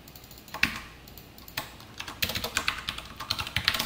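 Quick bursts of computer keyboard typing while entering a short entry in a code editor's settings, with crisp close clicks in small clusters separated by brief pauses, then a denser run of keystrokes.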